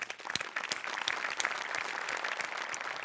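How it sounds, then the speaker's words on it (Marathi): A studio audience at a Marathi comedy show applauds, dense rippling clapping with sharp individual claps standing out, steady and fairly close. "नेहमीप्रमाणे सगळ्यात आधी मोठ्यांसाठी टाळ्या वाजवूया"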